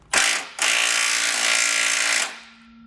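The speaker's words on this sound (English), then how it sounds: "we're going to snug up the 1/2-inch bolts at the bottom" Impact tool snugging up 1/2-inch bolts on a Roadmaster Direct-Connect base plate for a 2019 vehicle: a short burst, then a loud sustained hammering rattle for about two seconds before it winds down, close and without talk.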